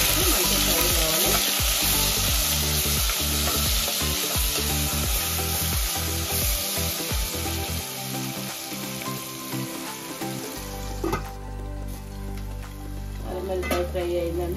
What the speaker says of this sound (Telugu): 1 స్పూన్ అల్లం వెల్లిపాయ పేస్ట్ వేసుకున్నానండి. మంచిగా ఫ్రై కావాలి.